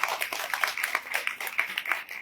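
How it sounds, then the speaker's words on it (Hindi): Applause for bhajan singers at a Shri Balaji temple gathering in praise of Lord Ram and Balaji, as a steady patter of many hands clapping fills the space evenly, fairly faint and without talk. "एक बार जोरदार तालियां उन्होंने भजना ली।"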